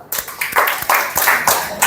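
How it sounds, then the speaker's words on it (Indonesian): Audience members at an Islamic religious lecture clap their hands in a short, loose burst of separate sharp claps, fairly close, with no talk over them. "Tepuk tangan dulu dong"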